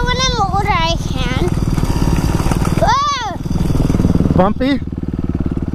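A small dirt bike motorcycle ridden by a young child puts out a steady buzzing engine drone through the whole stretch, with a child's and adults' voices talking over it.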